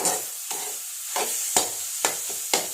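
Jackfruit thoran is stirred in a pan with a ladle, giving five or six sharp scraping strokes at roughly half-second intervals over a soft sizzle, close and alone.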